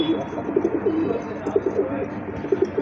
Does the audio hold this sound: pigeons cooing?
yes